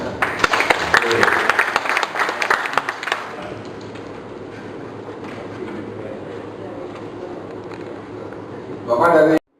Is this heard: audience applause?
yes